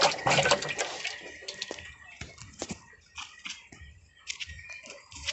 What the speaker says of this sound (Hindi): पानी को हिला देना।